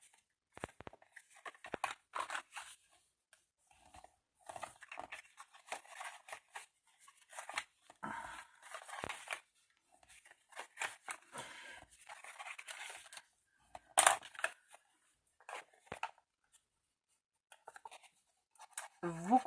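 Paper being creased and folded by hand for a unicorn advent calendar, heard as soft intermittent rubbing, crinkling and scraping strokes at close range, with short pauses between the bursts.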